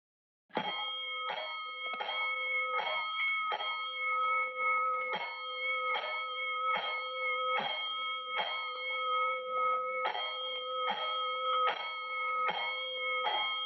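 Bright metallic fire alarm bells strike in a rapid, regular series of rings, loud and close, ringing on continuously with no voices.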